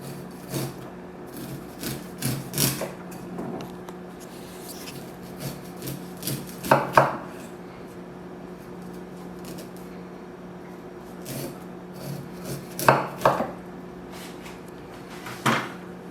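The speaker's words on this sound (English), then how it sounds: "Now the next step is to take the corn off the cob." A knife cuts grilled corn kernels off the cob on a wooden board, sporadic sharp thuds and scraping strokes in small clusters with quiet pauses between them.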